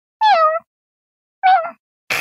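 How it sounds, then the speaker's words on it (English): Two distinct meows from a cat, each short and clear with a gap between, followed by a brief burst of noise at the end; the calls stand alone in otherwise silence. "meow, meow."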